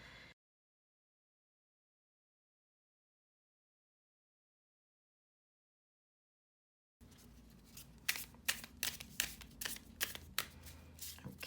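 After a long silence, tarot cards are shuffled close up, a series of quick riffling snaps and flutters in an irregular rhythm.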